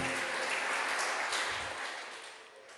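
A church congregation at an evangelical service claps together in sustained applause, a dense, even patter that gradually fades toward the end.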